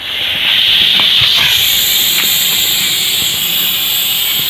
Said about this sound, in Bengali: বন্ধুরা, এই দেখুন, প্রথম সিটি মেরে দিয়েছে।